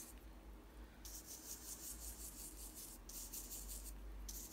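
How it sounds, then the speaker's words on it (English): A brush scrubs oil paint onto canvas for cloud shapes in a mountain landscape, making faint, close, rhythmic bristle rubbing in quick repeated strokes over a quiet background hiss. "I'm just gonna scrub these in. Scrub, scrub, scrub. Scrub in the clouds."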